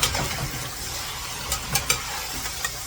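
Pork added to a pot with onions for sinigang hisses and sizzles steadily at close range, with a few sharp pops and stirring scrapes over the frying.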